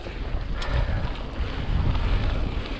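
Strong wind buffets the microphone during a rainy hardtail mountain-bike ride on a jetty, a dense, continuous roar of gusty rumble with no pauses.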